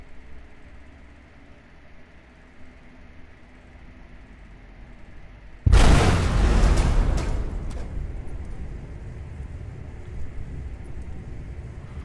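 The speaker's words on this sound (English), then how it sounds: "What is that explosion?" A video game explosion in Skyrim bursts suddenly from a quiet background, a loud rumbling blast that decays slowly into a lingering low roar.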